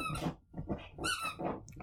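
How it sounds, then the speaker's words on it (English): A dog gives a quick series of squeaky whines and yelps, close and fairly loud, in short bursts with brief gaps between. "that's the dog"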